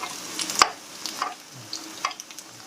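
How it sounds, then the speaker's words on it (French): A herb galette fries in olive oil, giving a soft, steady sizzle broken by scattered clicks and stirring scrapes, close by and fairly quiet. "C'est une galette à la friture."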